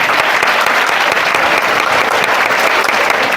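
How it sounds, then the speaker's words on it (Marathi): Loud, sustained applause from an audience honouring library staff at a memorial gathering for Mahatma Jyotiba Phule, with many people clapping close and continuously at a steady, even level throughout. "ग्रंथालयाचे कर्मचारी आदरणीय वैद्यकीय सर यांच्यासाठी जोरदार टाळ्या वाजवणं गरजेचं आहे"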